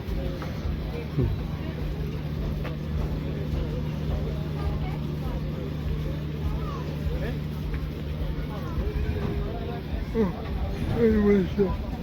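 A boat's motor arriving at night in Switzerland, heard as a steady low hum that holds for most of the clip, with background babble and voices over it.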